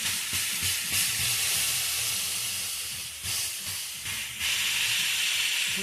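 Food sears loudly in a frying pan with a strong, steady sizzle and hiss. The sound surges briefly a few times, close, with no voices.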